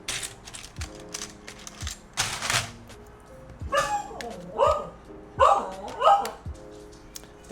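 A dog barks in a cat-dog dispute, several sharp yaps in quick succession in the second half, following clattering thumps and knocks, moderately loud and close.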